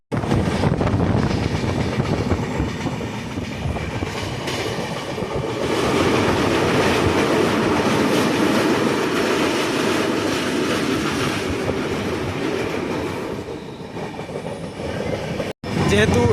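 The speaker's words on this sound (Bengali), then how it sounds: "আমাদের ট্রেন একটু ধীর গতিতে এগিয়ে চলছে আগের দিকে" A tourist express train rolls slowly through a wildlife sanctuary forest, giving a continuous rumble with clattering wheels and rail noise that runs nearly unbroken for the whole stretch.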